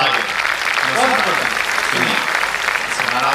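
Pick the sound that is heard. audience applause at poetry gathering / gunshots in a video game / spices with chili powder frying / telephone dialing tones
audience applause at poetry gathering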